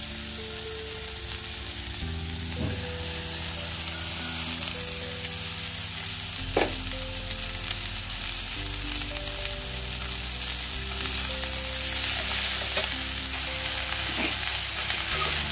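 Fenugreek leaves fry with potatoes in a pan, sizzling steadily up close while a utensil stirs and scrapes now and then.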